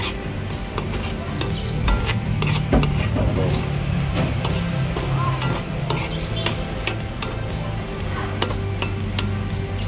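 Onion and garlic fry in plenty of oil, a continuous sizzle with frequent clinks and taps of a utensil against the pan.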